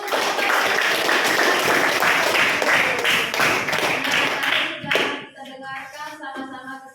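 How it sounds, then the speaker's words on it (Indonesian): Students in a classroom give a burst of dense, even applause that lasts about five seconds and then stops; a voice speaks briefly afterward. "Oke, tepuk tangan dulu."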